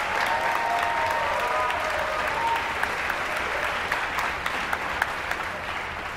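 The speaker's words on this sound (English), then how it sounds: "Round of applause." An audience at an event at Edina High School applauds a guest from the Virgin Islands Department of Tourism, with dense, sustained clapping from a large crowd that holds steady throughout, with no voice rising above it.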